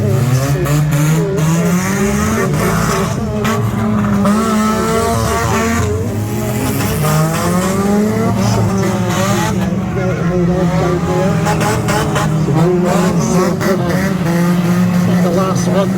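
Banger race cars at Barford Raceway in Scotland, a Christmas event, roar continuously with revving engines rising and falling, loud and close, under a commentator's voice throughout.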